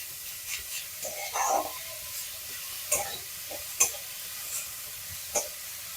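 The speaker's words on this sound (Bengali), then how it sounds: "এই বাটারের সাথে ফুলকপিটা কিছুক্ষণ ভেজে নেব।" Cauliflower fries in butter for a paratha filling with a soft, low sizzle, broken by several short scraping stirs at irregular intervals, all fairly faint.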